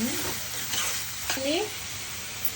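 Cucumber pieces frying in a pan for a cucumber, drumstick and prawn curry, with a steady sizzle, a few stirring scrapes, and a voice speaking briefly over the cooking.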